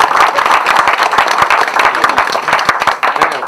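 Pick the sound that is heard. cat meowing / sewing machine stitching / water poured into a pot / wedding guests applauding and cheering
wedding guests applauding and cheering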